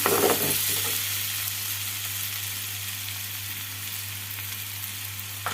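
An egg and broad bean curry sizzles in a hot pan while being stirred, a close, steady frying crackle that eases slightly over time, with a faint clink of stirring at the start and no talk.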